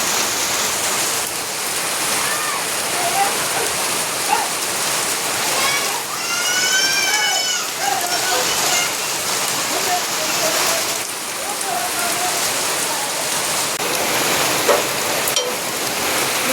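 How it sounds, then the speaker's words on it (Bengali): Heavy rain pours steadily outside a home, a dense, unbroken roaring hiss that fills the whole stretch, with voices talking faintly beneath it. "এত পরিমাণ বৃষ্টি হচ্ছে এখন, মানে চরম বৃষ্টি হচ্ছে যাকে বলে"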